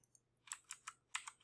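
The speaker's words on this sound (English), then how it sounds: "I need to hit a lot of keys at the same time here." Quick bursts of computer keyboard keys pressed during a coding game tutorial, about six crisp clacks in a quick, uneven rhythm, close and quiet with no talking.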